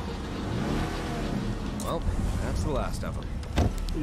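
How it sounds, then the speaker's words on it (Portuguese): A car driving in the zombie survival video game State of Decay 2, its engine humming and revving with shifting pitch beneath someone talking over it. "Vamos de carro até ali."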